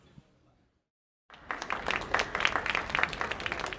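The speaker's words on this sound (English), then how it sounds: "you don't have to clap" An audience breaks into clapping at a film interview event after a brief quiet pause, dense applause rising and continuing steadily to the end.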